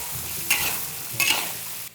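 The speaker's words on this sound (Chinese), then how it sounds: "泡菜下锅，一定要把泡菜的香味儿炒出来" Pickled vegetables being stir-fried in a wok, soft frying and stirring noises with two brief scraping bursts of the utensil against the pan, close and moderately loud with no voices.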